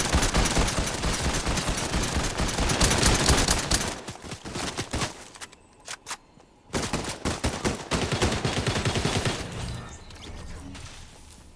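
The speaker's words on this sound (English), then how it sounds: "I swear I just got shot at." Gunfire in the video game Fortnite, dense rapid bursts of shots rattling almost continuously, breaking off briefly before resuming and fading near the end.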